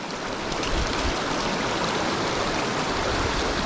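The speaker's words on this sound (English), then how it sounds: "Little brook." A mountain brook on the Snowbird River near Robbinsville, North Carolina, rushes steadily and close by in a continuous, even wash of water with no voices over it.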